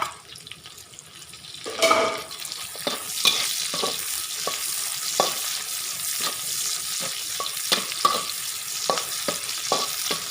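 Chillies fry and hiss in a pan as they are stirred, making a steady sizzle with a louder burst near the start and repeated light knocks and scrapes of the spoon, with no talk.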